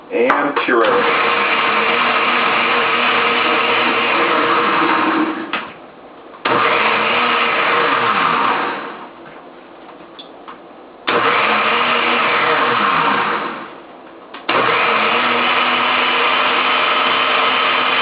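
A blender purees cooled hot sauce ingredients in repeated bursts, a loud whirring motor running several seconds, pausing, then starting again three times.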